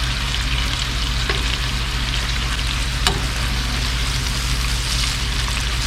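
Pieces of stingray frying in a pan on a breezy pier, a loud continuous close sizzle and hiss of hot oil with a low steady rumble underneath and a couple of faint clicks.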